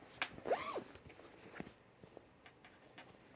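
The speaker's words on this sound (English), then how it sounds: "Let's see how the zipper works." A zipper on a newly sewn baby bag is pulled open and shut, with one loud close rasping sweep followed by lighter ticks and slides.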